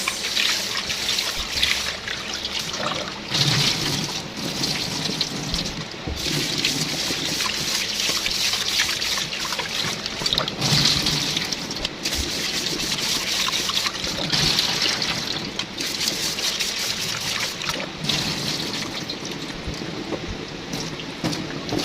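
Rice being washed under running tap water in a pot or basin, a steady close trickle and splatter of water with irregular sloshing and grain stirring throughout.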